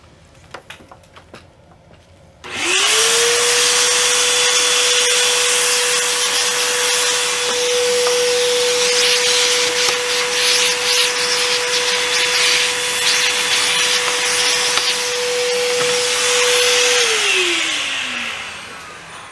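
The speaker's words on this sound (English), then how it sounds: "You always need to keep a vacuum handy with a small brush." A vacuum cleaner fitted with a small brush runs steadily for about fifteen seconds, cleaning dust out of an opened PS4 console. The motor spins up with a rising whine, holds a loud constant hum, then winds down at the end.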